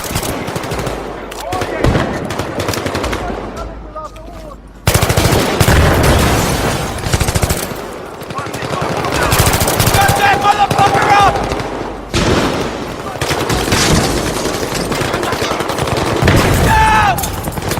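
Rapid automatic gunfire bursts and single shots in the Battlefield 3 video game, fired on the Fault Line map, loud and close, with booms and cracks over a dense battle backdrop.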